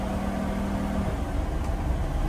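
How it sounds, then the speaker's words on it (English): A 2018 Forest River Class A gas motorhome's engine runs while driving at highway speed, a steady low drone with road hum, fairly loud and continuous, with a brief tonal whine early on and no talk. "The engine's relatively quiet."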